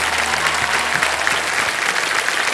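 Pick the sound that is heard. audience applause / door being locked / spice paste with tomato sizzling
audience applause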